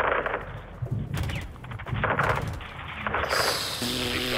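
Bursts of automatic gunfire in the Call of Duty Modern Warfare 2 (2022) campaign, loud and close, with rapid repeated shots in several volleys over a constant combat din.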